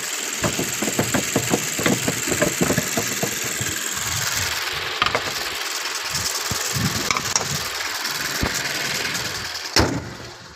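Mazda 6 2020 sedan engine running steadily, a continuous mid-pitched hum with faint knocking ticks and a brief sharp bump near the end, recorded close by with no talk.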